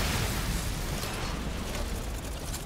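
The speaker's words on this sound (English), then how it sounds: "Now let's just hope the grenade launcher works." Grenade launcher blasts in Resident Evil Village during the Heisenberg fight fill the clip with a dense, roaring wash of explosion and fire noise, loud and continuous, without speech.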